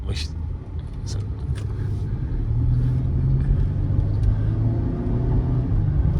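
A 2003 Ford Thunderbird's engine rumbles steadily from inside the cabin, rising as it accelerates, with a brief dip at a smooth gear change; faint voices nearby.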